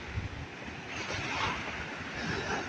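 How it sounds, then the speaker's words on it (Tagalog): Big storm-driven ocean waves crashing and roaring on the shore, a dense, continuous surge with steady wind noise buffeting the microphone, no voices. "ganito kalalaki ang alon dito sa lugar namin"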